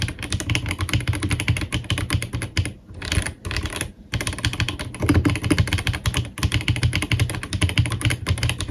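A mechanical keyboard built from Lego parts, before foam modding, typed on rapidly with dense, continuous clacking keystrokes, loud and close, with a couple of brief pauses.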